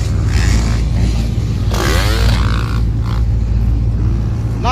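A 250cc racing motorcycle engine roars loud and close without pause, a dense, rough drone with a brief rising surge partway through.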